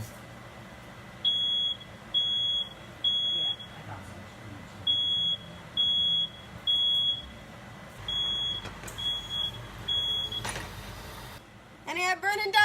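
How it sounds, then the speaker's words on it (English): A kitchen smoke alarm, set off while cooking on a stove, sounds in shrill beeps grouped in threes, repeating several times before turning into quicker, irregular chirps over faint background noise. "After turning off the fire alarm and the burners on the stove"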